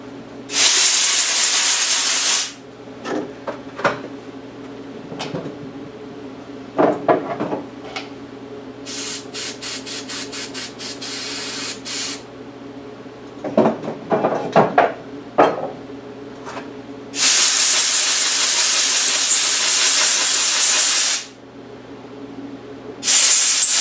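An old spark plug from a vintage Briggs and Stratton 3hp engine is washed off with a spray, with several loud, close hissing bursts of a few seconds each and quieter clanks and handling noises between them.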